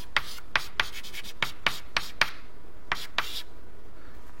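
Chalk or a marker taps and strokes on a board during a lecture, making about ten short, crisp marks in an uneven rhythm, close and clear against a quiet room.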